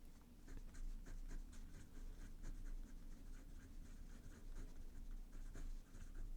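A broad-nib Pilot fountain pen scratching across paper in a steady run of soft strokes, close up over a low constant background hum, with no talk.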